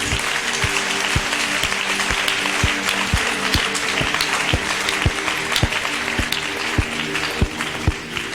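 Church congregation clapping in a steady rhythmic beat, loud and close, with music tones sustained underneath and no talk over it.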